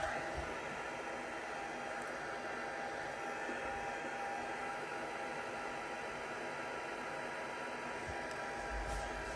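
A heat tool blows steadily while drying a handmade Christmas card, producing a constant soft airy whoosh with a faint hum that stays at the same level throughout.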